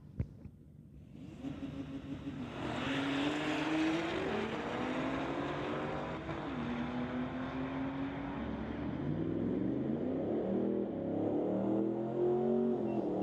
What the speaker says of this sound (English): Porsche in the tower side going against Robert McLean in his 2018 ZL1.